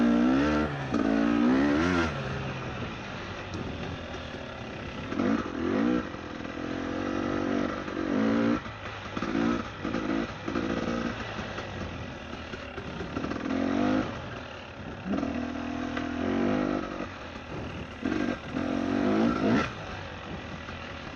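A motorcycle being ridden on the road revs and eases repeatedly, its engine rising in loud pulls and dropping back between gear changes, heard up close from the rider's position.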